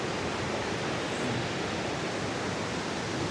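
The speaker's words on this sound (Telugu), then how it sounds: "అక్కడే చిన్న జలపాతం అయితే ఉంది" A small waterfall near a cave by the Gosthani River, heard as a continuous, even rushing roar of falling water with no breaks.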